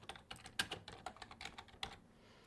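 Rapid, uneven keystrokes on a computer keyboard as text is typed for a fabric printing design, close and crisp with several sharper clacks, fading to quiet near the end.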